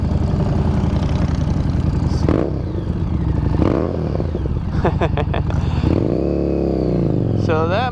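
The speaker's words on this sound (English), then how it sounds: "that, my friends, is a Two Brothers exhaust system" A tracker-style motorcycle fitted with a Two Brothers slip-on exhaust idles close by with a deep, throbbing note, rising briefly in a few blips of the throttle.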